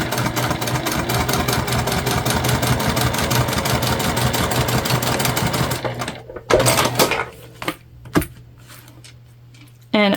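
A sewing machine bastes the sides of a crossbody bag in a loud, rapid, steady run of stitches, then stops, leaving fabric handling and small clicks.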